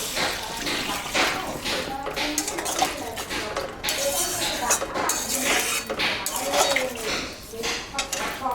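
A metal lid comes off a cooking pot of bata and magur fish curry, with repeated clattering clinks and knocks of cookware, close and fairly loud, over a busy kitchen background with a voice at times.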